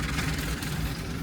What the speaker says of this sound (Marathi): हा ट्रॅक्टर मागं येतो हे